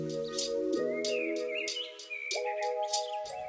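Yellow weaver birds chirp in quick repeated bursts at an old fishing dock used for launching safari boats in South Africa, over a steady low engine hum that shifts pitch.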